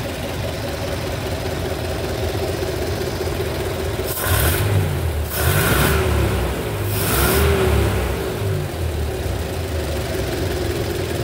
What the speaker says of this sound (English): This is like a 384 cubic inch 8-cylinder.